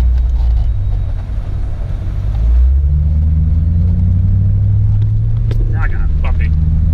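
A 2000 Pontiac Trans Am running without its air filter makes a drag-racing pass, its engine droning steadily and then climbing in pitch as it accelerates hard, close and loud throughout.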